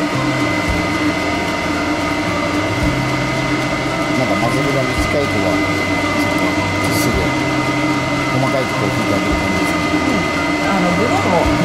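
A hair dryer blows steadily and loudly while a dog is blow-dried at a grooming salon, a continuous whooshing drone throughout, with people talking over it.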